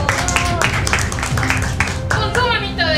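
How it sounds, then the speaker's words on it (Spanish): An audience at a show in Selva Mágica, an amusement park in Guadalajara, Jalisco, claps steadily throughout, while voices sound over and among the clapping. "Le damos un fuerte aplauso"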